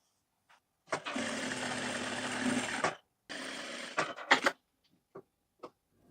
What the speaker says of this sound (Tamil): இதை அப்படியே திருப்பி அப்படியே ஒரு தையல் போட்டுருங்க.